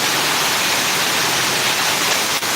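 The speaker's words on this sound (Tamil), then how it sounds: "பயங்கரமாக வருது மழை" Heavy rain with wind pours down in a dense, constant roar with no letup, loud and close.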